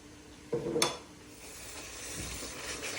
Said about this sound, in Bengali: আমার মশলা কষা হচ্ছে, তেলটা উঠে আসছে মশলা থেকে